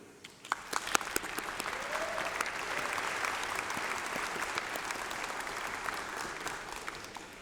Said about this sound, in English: let's have a massive round of applause for them